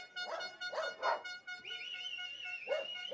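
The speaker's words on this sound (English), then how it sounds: "Those dogs sound hungry to me." Dogs bark and whimper at an urban downhill mountain bike race in Valparaíso, a few rhythmic barks, then a long high whine and another bark, fairly close and alone.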